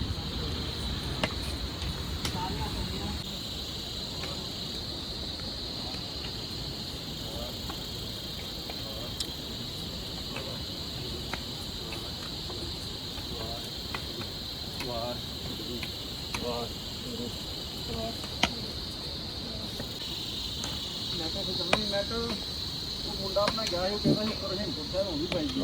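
Cicadas drone steadily from the forest along the steep mountain trail from Govindghat to Govind Dham, a continuous high-pitched buzz that holds at the same level throughout, with faint voices and footsteps underneath.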